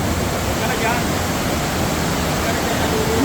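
Kambal Busay waterfall in Bulusan, Sorsogon pours in a loud, steady, broadband rush close by, with a voice faintly audible beneath it.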